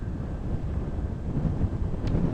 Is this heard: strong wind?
yes